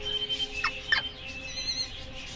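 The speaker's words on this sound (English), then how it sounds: "Oh, these are birds." Turkeys gobbling in a film scene from Evan Almighty: two short gobbling calls close together, then a high warbling bird call, fairly loud over a steady background hum.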